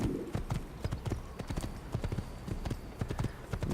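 Horse hooves clop steadily on the ground while riding in Assassin's Creed, a quick, even gallop rhythm that is moderately loud and continues alone throughout.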